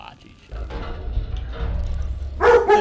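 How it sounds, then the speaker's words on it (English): Several small dogs yap in a room under quiet, low background talk, ending in a sharp, close burst of high barks. "my dogs are yapping"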